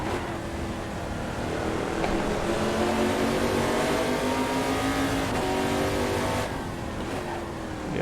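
A race car engine revs hard in a racing video game on the Sveg Raceway circuit, its loud, continuous note climbing and dropping as the throttle changes, with no talking.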